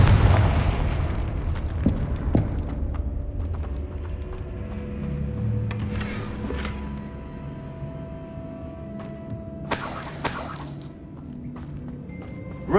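A Confringo blasting spell going off in Hogwarts Legacy: a deep booming blast at the start fading into rumbling debris, followed by scattered clinks, a swell of whooshing energy and a bright magical burst near the end.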